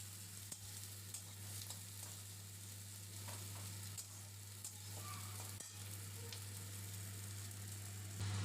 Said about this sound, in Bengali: পেঁয়াজ কুচিটা কিছুক্ষণ নাড়বো তেলে একটু লাল হয়ে এলে